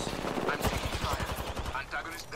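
Bursts of automatic gunfire from an enemy squad in Apex Legends, rapid rhythmic shots rattling in quick succession at moderate distance, with brief gaps between volleys.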